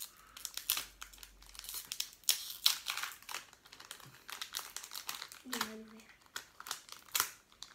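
A Japanese Pokémon booster pack's foil wrapper being torn open and crinkled, close crackles and rips in irregular bursts, with someone talking quietly between them.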